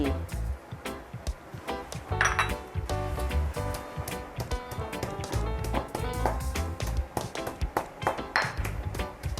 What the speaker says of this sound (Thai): เดี๋ยวเราจะโขกในส่วนของสมุนไพรที่มีความแข็งก่อนนะคะ